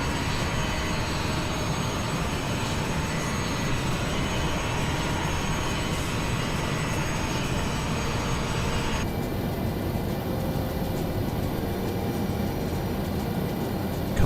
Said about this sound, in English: it's beautiful sounds though on the JT8D engines